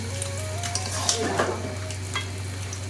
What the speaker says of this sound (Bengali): তো ম্যারিনেট করা মাংসটা মশলাতে ঢেলে দিয়েছি